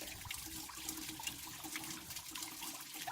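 Water from a garden hose running into a Mercedes Sprinter campervan's coolant system during a flush, a steady gushing and splashing rush of liquid, fairly quiet and continuous with no voices.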